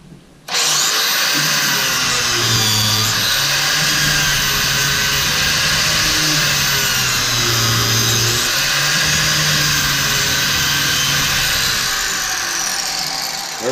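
A 4.5-inch angle grinder fitted with a chainsaw wheel cuts grooves into a dirt bike tire, starting abruptly and then running loud and steady at high speed with wavering pitch as the blade bites into the rubber.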